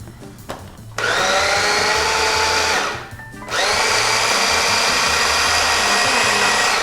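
A blender whirs loudly and steadily, blending chili sauce, briefly slowing to a stop before spinning back up to full speed.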